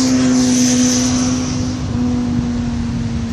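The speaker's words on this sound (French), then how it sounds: "Et notre petit avion qui fait la tchave dans les airs" A small propeller airplane flies overhead at dusk above the Rivière des Galets on Réunion's west coast, giving a loud, steady droning hum with a sustained engine tone and no voices.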